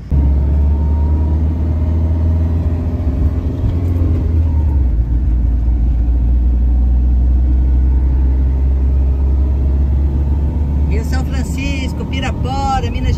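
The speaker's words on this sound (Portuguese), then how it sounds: "E os tratores fazendo a manutenção." Tractors doing maintenance on the bank of the São Francisco River in Pirapora, Minas Gerais, give off a steady, loud low engine rumble, with a person talking over it.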